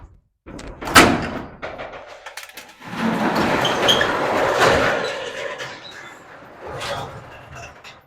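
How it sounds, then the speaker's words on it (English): A flood-damaged car's heavy door unlatches with a sharp metallic clunk, then creaks and rumbles open on its mechanism before settling with a softer thud. "Guess I'll open the door."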